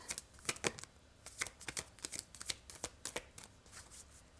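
Tarot-style cards being handled and shuffled close up, a quick run of crisp papery flicks and riffles in irregular bursts, with no talking.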